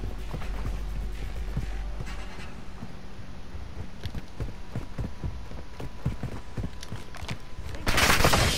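Rapid bursts of Lockwood rifle fire in the Call of Duty MW2 beta team deathmatch, sharp repeated shots with mechanical clatter over steady game ambience, ending in a loud blast.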